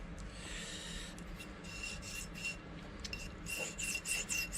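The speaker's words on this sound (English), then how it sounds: "I'll have to sharpen my little multi-tool" A small multi-tool blade is rubbed against a sharpening stone in quick, faint, rasping strokes, an uneven scraping rhythm without talk.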